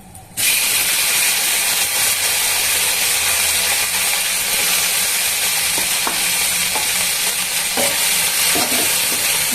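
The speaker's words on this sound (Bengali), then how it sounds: "একটা শুকনো লঙ্কা দিই টমেটোটা দিয়ে দিচ্ছি" Tomato and a dried red chili hit hot oil in a pan with a sudden loud, steady sizzle that holds for several seconds, with a few faint clinks of a spoon near the end; no voices.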